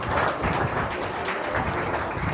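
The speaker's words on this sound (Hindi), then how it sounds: "जिन्होंने हाथ खड़ा किया उनके लिए ताली बजाओ।" School students in a classroom clap together at a moral education session, a dense, fairly loud burst of mixed hand claps that carries on steadily for a couple of seconds with no talk over it.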